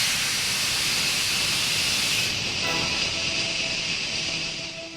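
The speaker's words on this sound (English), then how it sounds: "That sounds like a steam engine." A loud, steady hiss of escaping steam from a steam locomotive fills the air, easing off slightly toward the end with faint rumbling mechanical tones underneath.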